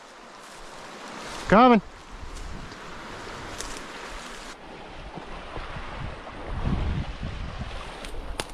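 River rapids along a wooded valley game trail rush in a steady broad roar from close by, swelling louder toward the end, with a brief spoken word cutting through early on.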